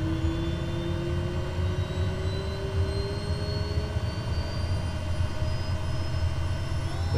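A turboprop aircraft engine running up to low idle on the ground: a steady, loud, droning whine with a slowly rising tone that fills the whole stretch, with no voices over it.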